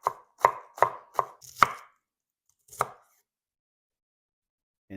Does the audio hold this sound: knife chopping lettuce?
yes